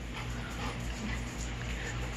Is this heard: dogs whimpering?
yes